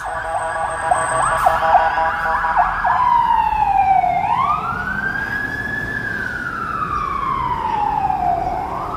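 Emergency sirens wail and yelp loudly at Yonge and Dundas in Toronto at night, one sweeping up and down in long arcs, over the rumble of city traffic.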